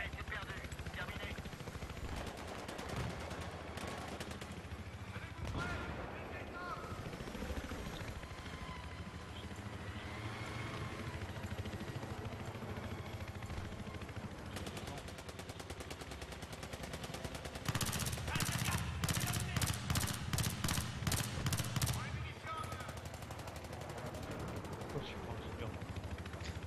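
Gunfire and explosions in a first-person shooter video game, with helicopter rotor noise and steady battle din throughout and a loud burst of rapid automatic fire near the end.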